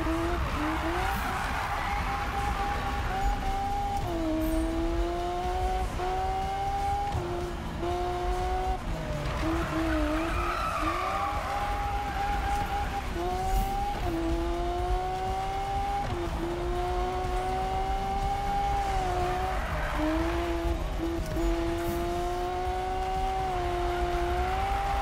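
A car drifts through a tight race in Need for Speed 2015, its engine droning continuously while repeated tire squeals rise and fall in waves, loud and sustained.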